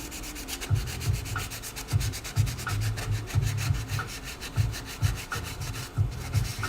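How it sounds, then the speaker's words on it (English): Sanding block of fine 320 grit rubbed over a 3D printed plastic mask, giving steady rasping strokes in a repeated back-and-forth rhythm, close and moderately loud with no talking. "I believe this is a 320 grit block."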